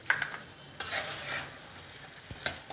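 Curry leaves and coriander go into a frying tomato chutney, bringing soft sizzling with several sharp spoon-on-pan scrapes and clinks as the mix is stirred at close range.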